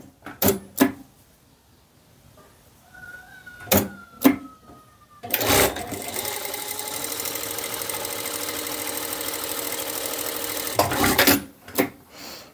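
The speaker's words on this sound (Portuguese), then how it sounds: "dobra a costurinha aqui para o forro, e aí eu vou passar uma costura aqui de 1 centímetro." A sewing machine runs a 1 cm seam on the lining of a peplum blouse. A few sharp clicks and handling noises come first, then a continuous whirring run of stitching lasts several seconds and ends with more clicks.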